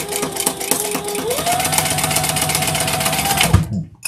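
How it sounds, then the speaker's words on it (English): A sewing machine needle punches rapidly into leather in a loud, even mechanical chatter that shifts pitch slightly as it speeds up, then stops abruptly near the end. "Can you hear that needle? Can you hear it going into the fabric, making all that racket?"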